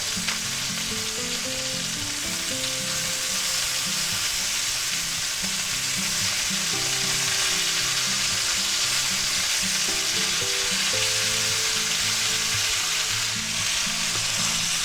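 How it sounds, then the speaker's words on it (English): Thick chuck steak sizzles loudly and steadily in a hot pan as melted butter is spooned over it, the frying hiss continuous with soft repeated basting taps throughout, no voices. "We're going to go ahead and baste that because we like our butter."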